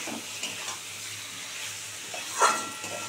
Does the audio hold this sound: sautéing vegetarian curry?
yes